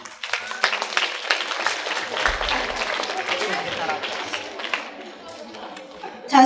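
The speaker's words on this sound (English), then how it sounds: "A round of applause for them, please" An audience at a Black History Month celebration at a charter school claps in a dense, lively round of applause, with scattered cheers and crowd chatter mixed in.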